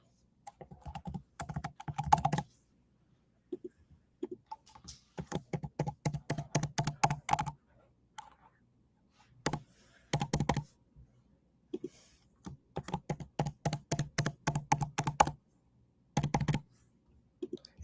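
A username and password being keyed in on a computer keyboard, heard as quick bursts of close, crisp keystrokes broken by short pauses, with no talking.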